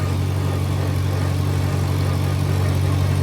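A tractor engine works under heavy load, giving a steady, loud, low droning hum that stays even from start to finish with no voices.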